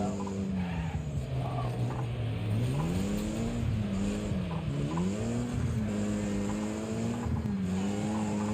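Continuous rough, whining damaged race car engine in the video game Wreckfest, with wavering pitch that rises and dips, droning steadily and loudly without pause.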